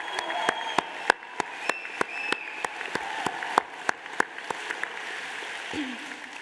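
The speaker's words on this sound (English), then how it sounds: "Give yourselves another round of applause." Sparse applause at a 2023 university graduation ceremony for the graduating class: a scattering of distinct, sharp individual claps ringing out over a soft, steady background of clapping.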